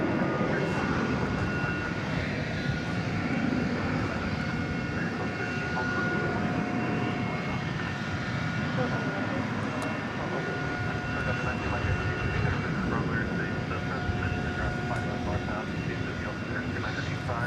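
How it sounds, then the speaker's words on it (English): An American Airlines Airbus A321 lining up at DFW Airport at night gives off a constant loud jet-engine roar with a faint tonal whine sustained throughout, while a person talks over it. "we should be lining up now for American Flight 777, which of course is an Airbus A321."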